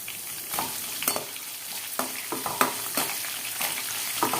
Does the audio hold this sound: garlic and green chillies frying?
yes